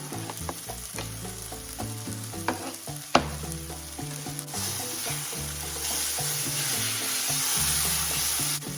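Garlic and softening vegetables for shredded chicken burritos sizzle loudly in a pan while being stirred, with repeated scraping strokes and a sharp clank, the hiss growing brighter and steadier toward the end.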